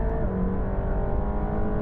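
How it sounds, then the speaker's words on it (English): A flat-plane crank car engine roars at steady high revs from inside the cabin, a dense, continuous rumble with a harsh, buzzy edge. "the engine definitely sounds different with that flat, plain crank and the different firing order"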